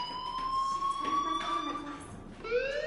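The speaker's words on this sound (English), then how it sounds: "do you hear that fire alarm?" Fire alarm in a video game sounds as steady electronic tones that repeat and slowly rise in pitch, loud and continuous across the whole stretch, with a voice speaking faintly under them.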